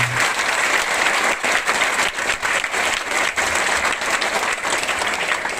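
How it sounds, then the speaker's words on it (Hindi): Steady, dense applause fills a school ceremony hall at a primary school prize-giving, continuous and moderately loud throughout with no pauses. "एक बार तालियां हो जाएं सभी लोगों के लिए"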